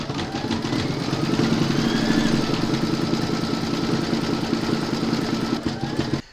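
Embroidery machine stitching black thread lettering in a hoop, giving a continuous close rattling mechanical hum with fine rhythmic clatter that holds steady before it stops abruptly at the end.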